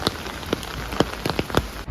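Steady rain falling outdoors, a dense close patter with scattered louder drops striking a surface, continuous throughout with no voices.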